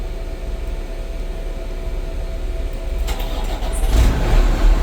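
A Shuttlewagon railcar mover's engine cranks and catches to power its AC system, a steady low rumble swelling louder over the last couple of seconds.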